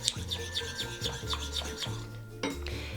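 Yogurt gets mixed with a pinch of salt for cucumber raita, a quick run of close rhythmic scraping and rubbing strokes of a spoon against the bowl, quiet and alone.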